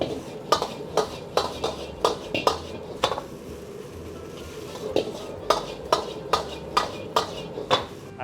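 A utensil scrapes and taps in a rhythmic series against a pan as egg is broken up and stirred for egg fried rice, with a faint sizzle underneath.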